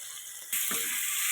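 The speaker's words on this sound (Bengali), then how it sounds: "এবার মাথা দুটো ভাজা হয়ে যাবে এই তেলে" Fish heads drop into hot oil, and after a quiet moment a loud, close sizzle bursts on suddenly and holds steady, with no talking.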